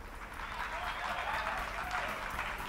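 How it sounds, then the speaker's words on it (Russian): A hall audience in the visual novel Everlasting Summer claps heartily for the performers, a dense, even wash of applause that holds steady at moderate loudness for the whole stretch. "зал от души аплодировал гостям"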